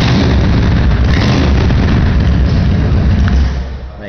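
A 2007 Honda VT750 Shadow motorcycle with Cobra exhaust pipes starts and idles, giving a loud, deep, continuous rumbling lope close by that eases off slightly at the end.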